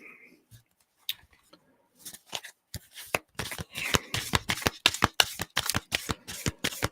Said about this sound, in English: Let's pull a few cards